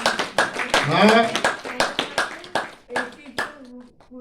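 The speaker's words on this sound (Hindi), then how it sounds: "तालियां बजाओ" People clap for an 82nd birthday in a series of sharp, close hand claps in a loose rhythm, with voices talking and calling out between and over them.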